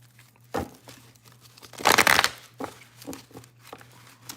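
Tarot cards being shuffled by hand in a few short bursts, with one longer, louder riffle in the middle, close and crisp over a faint steady hum.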